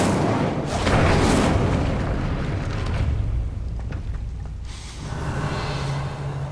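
A fire spell is cast in Hogwarts Legacy, a loud sustained whooshing burst of flame up close that roars for a couple of seconds, then fades into a softer rumble.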